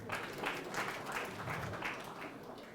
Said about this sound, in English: let's give a clap to ourselves